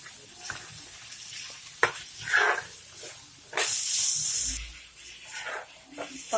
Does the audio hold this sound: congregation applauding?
no